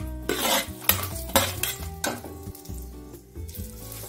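Spoon stirring fried dry fruits into poha chivda in a metal pan, with repeated scraping and clinking strokes over a soft sizzle, close and fairly loud, no voices.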